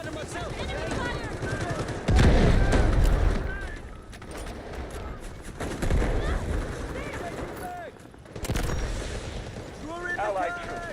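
Gunfire in the Delta Force video game crackles in rapid bursts and sustained volleys, with heavier booming hits, while in-game voices shout callouts over the combat.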